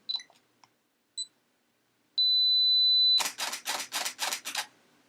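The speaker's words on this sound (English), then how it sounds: "Now all I'm going to do is press the shutter button once." Faint self-timer beeps tick down on a Fuji camera, then a steady high beep, followed by a rapid burst of about seven camera shutter clicks.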